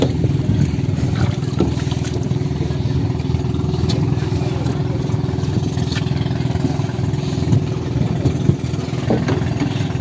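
A fishing boat's engine runs at sea in a steady, close, low droning hum that holds evenly throughout, with no clear pauses or changes in pitch.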